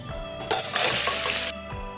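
One kilogram of country chicken hits hot oil in a pressure cooker, producing a sudden loud, bright hiss that holds for about a second and then cuts off, with a few soft clatters around it.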